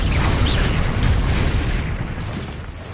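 Confringo explosion spell in the video game Hogwarts Legacy, a loud, deep burst that booms and rumbles for a few seconds, then fades slightly, heard alone.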